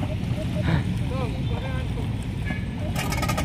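A boat engine is cranked but fails to catch, giving a low rumbling churn and a brief sputtering burst near the end, while voices talk over it and wind noise runs underneath.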